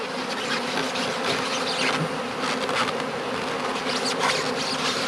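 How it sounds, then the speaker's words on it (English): Dense, steady buzzing of a bee swarm in a swarm trap, a continuous droning close by with shifting intensity. "Oh, look at all the bees"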